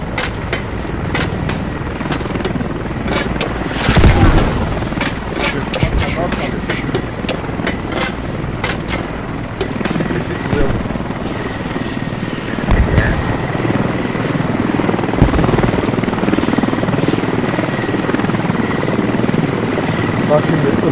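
A helicopter in the military shooter SQUAD, a continuous loud rotor and engine drone running throughout, with gunfire cracks and someone talking over it.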